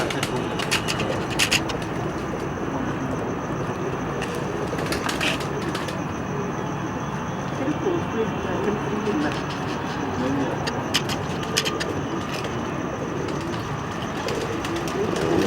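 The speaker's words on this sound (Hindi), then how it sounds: "ये हमारे पास एक कांटों वाले कबूतर हैं।" Crested pigeons coo softly and steadily at close range through a continuous bed of rustling ambient noise, with a few faint clicks and distant background sounds mixed in.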